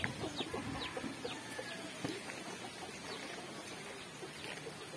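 Chickens cluck softly here and there against a quiet outdoor background, with scattered short calls from several birds at a distance.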